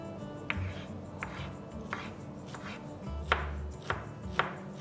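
A knife chops a bundle of fresh coriander and mint leaves on a board, giving about six evenly spaced, sharp cuts close by, with a low thud under several strokes and no talking.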